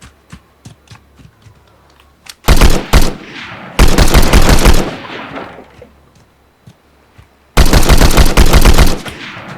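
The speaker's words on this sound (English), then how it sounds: "Let's shoot some guns here." Loud bursts of automatic gunfire in a video game, three long rapid-fire volleys separated by quieter stretches of faint clicks and movement, with no talking.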